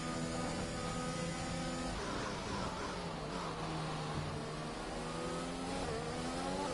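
Simulated 2021 racing car engine in a motorsport video game, a loud continuous high-pitched whine with rising and falling revs through gear changes, steady throughout with no talking.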